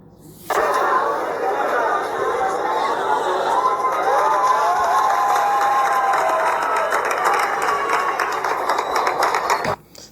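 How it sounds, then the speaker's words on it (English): Crowd clapping and cheering plays back as a steady, dense roar that holds unbroken for about nine seconds at even loudness before cutting off abruptly. "They're clapping as if, yeah, finally help has arrived."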